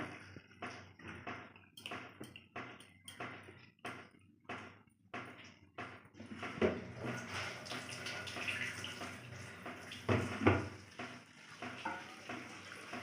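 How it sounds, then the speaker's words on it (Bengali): Meat being rinsed in hot water, with running water splashing and sloshing over it in a steady, close wash that grows louder and busier partway through. "এই যে মাংসটা আমি একটু গরম জলে এটাকে ধুয়ে নেব।"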